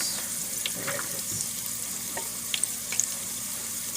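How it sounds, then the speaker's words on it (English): Banana blossom vegan chicken frying in a pan, a steady close sizzle and crackle running throughout with a few brighter pops and spits near the end, no talking. "the chicken, how it's frying up"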